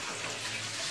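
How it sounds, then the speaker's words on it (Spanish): Water from a scoop pouring steadily into a cooking pot while making beef soup, a continuous broadband splashing rush that holds even and close for the whole moment. "Mira, se está cayendo agua, Jonathan, con ese guacal, échamele más a la"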